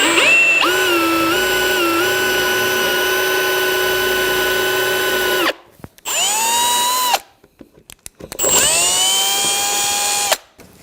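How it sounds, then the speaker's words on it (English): A power drill bores a 1-inch deep hole, its motor whining loud and close in one long steady run, then in two shorter bursts that each spin up and cut off, with no talking. "you can just simply go until your material meets the tape here and you're at a 1 inch deep drill"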